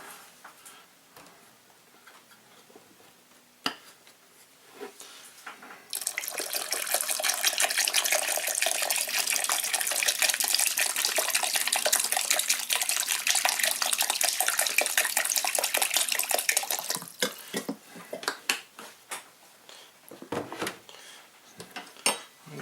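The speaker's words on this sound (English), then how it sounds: "And here's some water." Water pours steadily into a soup pot for about ten seconds, a close, loud, continuous rush. Quieter stretches before and after carry scattered clinks and knocks of pots and utensils.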